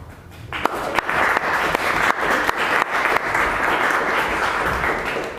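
Audience applause at a Toastmasters club meeting in Cluj rises quickly into a full, steady round of clapping with a few louder individual claps standing out, sustained throughout.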